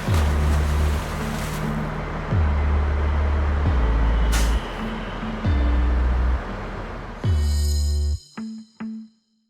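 Air system on a 37-year-old ex-military Unimog 4x4 camper truck as the parking brake is released: loud steady engine rumble with repeated pressure pulses, ending in sharp hissing air bursts and a few clanks as it stops.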